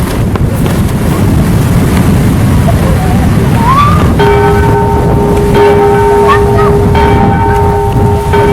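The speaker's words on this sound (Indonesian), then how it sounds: "Lonceng juga bunyi" A bell rings with a sustained, steady tone as a storm warning amid strong wind buffeting and rushing noise, with some voices faintly in the background.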